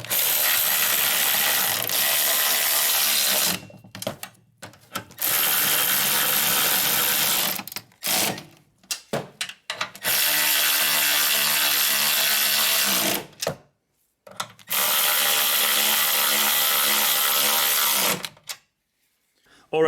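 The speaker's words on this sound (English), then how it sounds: "So now we're gonna tighten them." A ratchet tool rapidly tightens the strut mount nuts on a Ford Freestyle, heard as several long, loud, fast buzzing clicking runs separated by short pauses, close to the listener.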